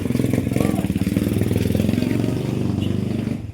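A motorcycle engine idles and chugs steadily at moderate distance, a rhythmic mid-pitched putter running throughout, with a voice faintly heard underneath.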